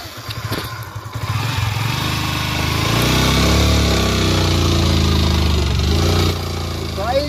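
A motorcycle engine strains loud and steady while the bike tows a car along a road, revving up and holding a labored drone that eases off near the end.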